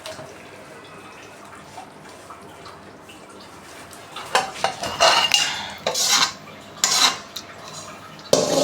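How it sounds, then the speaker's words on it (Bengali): Spicy raw mango pickle scraped and poured out of a metal cooking pan, with clattering spoon-on-pan scrapes and knocks in bursts, close and fairly loud. "এখন আমি আচারটা ঢেলে নিব"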